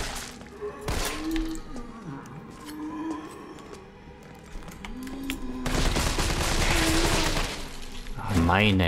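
Gunfire in Resident Evil 3 Remake crackles in bursts, with a dense volley late on, mixed with low groaning tones and other game effects.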